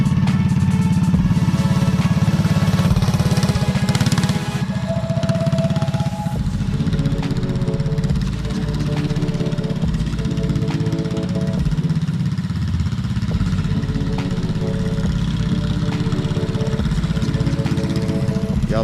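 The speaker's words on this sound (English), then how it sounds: "I'm about to get the mini bike running for her" Mini bike engine running with a steady, buzzing small-engine putter that rises and settles, close and fairly loud, with no talk over it.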